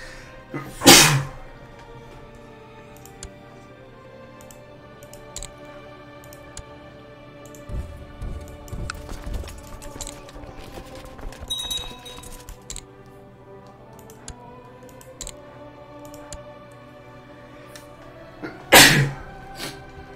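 Two sharp, loud human sneezes, one near the start and one near the end, with quiet clicks and keyboard-like tapping between them in an indoor room.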